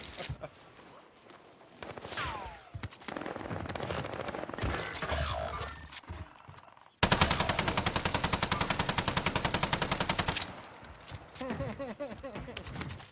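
Video game gunfire in Warzone, starting with scattered shots and clatter, then a loud, rapid automatic burst of evenly spaced shots lasting about three seconds, then more sporadic fire, with voices talking underneath.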